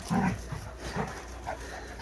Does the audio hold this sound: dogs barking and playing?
yes